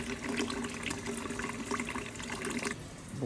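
Water drains from a Coway NEO water purifier in a steady, soft gushing trickle that runs continuously, then eases off near the end.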